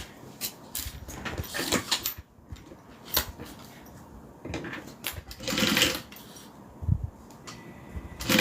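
A home sewing machine stitches a zippered Aries bag in short, irregular bursts of whirring. Soft handling clatter and what may be a dog whimpering nearby fill the gaps.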